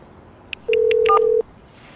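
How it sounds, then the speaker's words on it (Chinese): A phone number dialed on a handset, a quick run of four short keypad tones followed by a longer steady tone, close and clear against a quiet background. "陈豪，这有车主的电话"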